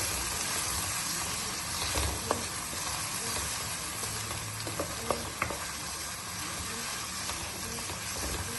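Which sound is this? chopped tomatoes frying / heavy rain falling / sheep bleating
chopped tomatoes frying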